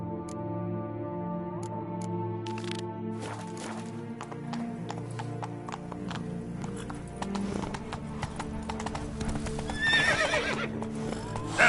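In a video game, the horse Roach neighs and trots with rhythmic hoofbeat clops against steady background game music and ambience, moderately loud throughout.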